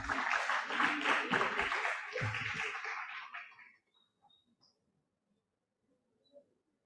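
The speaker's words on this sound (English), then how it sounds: "Please welcome her with a big round of applause." An audience applauds a prize winner at a concluding and valedictory ceremony, a full burst of clapping that holds for about three seconds and then fades to near silence, with a few faint stray sounds afterward.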